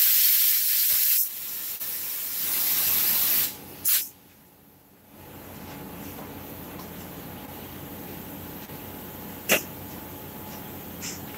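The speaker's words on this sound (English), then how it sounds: "I'm about to spray this one down" A spray bottle misting liquid onto a flat surface: a few close, hissing bursts of spray, separated by short pauses, with faint room noise between.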